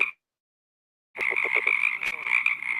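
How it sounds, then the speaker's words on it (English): A California red-legged frog gives a low, rapid chuckle of several quick pulses, with a continuous chorus of tree frogs trilling close by after a brief silence at the start. "It's going through with the while this red-legged frog is calling."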